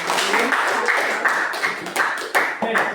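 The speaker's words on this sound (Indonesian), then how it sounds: "silakan kita sekali lagi berikan aplaus lagi untuk kelompok 1 ya" Classroom applause for group 1: a cluster of hands clapping in a steady irregular patter, moderately close, with a few louder claps standing out toward the end.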